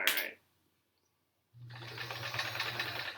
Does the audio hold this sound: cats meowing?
no